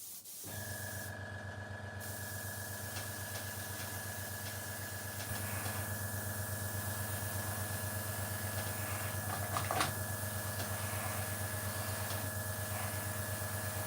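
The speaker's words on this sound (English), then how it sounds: "Compressor noise as well, there's nothing I can do from that." An air compressor supplying an airbrush for weathering a Class 40 model locomotive runs steadily with a constant hum and drone, alone and unchanging throughout.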